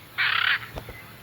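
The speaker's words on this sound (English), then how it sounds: "It's now that the Hyacinth macaws breed." Hyacinth macaw in the Brazilian Pantanal giving a single loud, harsh, raspy squawk of about half a second, close by, followed by a soft low thump.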